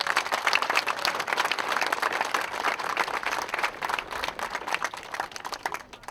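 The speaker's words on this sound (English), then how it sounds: "So let's give him a big round of applause." A crowd applauds a bronze owl sculptor at a university athletics statue unveiling, steady clapping from many hands, fairly close and continuous, tapering slightly at the end.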